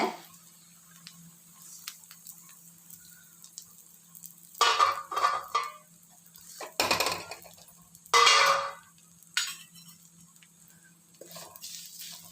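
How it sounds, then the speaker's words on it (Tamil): Vermicelli roasting in ghee in a pan for a Navaratri offering, with intermittent stirring scrapes and soft sizzling bursts over a low steady hum, the clatter coming in short separated strokes. "ஒரு சேமியா வறுத்துட்டுருவோம் நெய்யில்"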